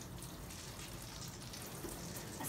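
During a bath, water rinses through the long coat of a full-coated Havanese dog. It makes a steady, soft, close hiss of running water with no break.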